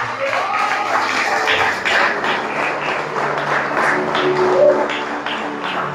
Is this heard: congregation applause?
yes